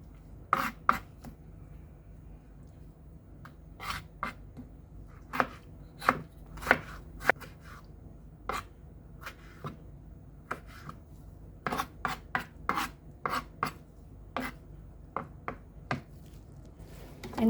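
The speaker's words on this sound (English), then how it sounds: "And now let's slice our tomato" A knife slicing a tomato on a cutting board for homemade guacamole, with crisp, close taps of the blade striking the board at an irregular rhythm, some in quick clusters, over a quiet background.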